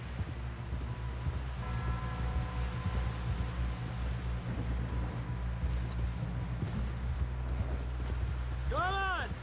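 Horse hooves clip-clopping in the video game Red Dead Redemption 2, a steady rhythmic plodding under a low rumbling background, with a brief whooshing sweep near the end.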